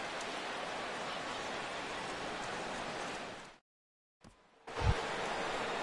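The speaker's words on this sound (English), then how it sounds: "Rain continues to fall here in the 6th" Rain falling steadily during a ballgame in the baseball video game MLB The Show 17, a dense hiss of downpour that cuts out abruptly to silence for about half a second, then returns with a soft thud.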